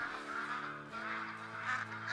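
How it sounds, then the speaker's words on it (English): Goldeneye and mallard ducks on a hunting game map quack in a continuous, overlapping chatter, a dense flock sound of nasal calls at moderate volume over a low steady drone. "Look at all the ducks!"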